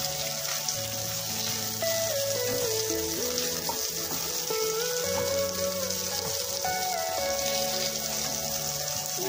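Pork gisado with onion sizzles in a pan while being stirred, a constant dense frying hiss with faint scraping, close and steady throughout.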